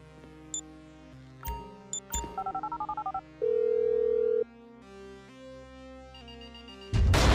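Telephone dialing in the video game Grand Theft Auto V: a string of short keypad tones in a quick run, then a steady held ring tone, with game music and effects underneath and no talk.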